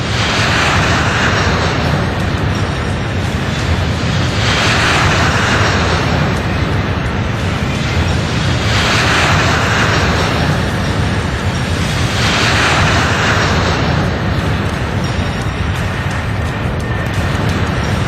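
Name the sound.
Stratolaunch giant aircraft engines in flight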